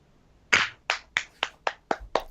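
Hands clapping seven times in a loose, slightly uneven rhythm, each clap sharp, close and fairly loud with a short decay, against quiet background and no talk.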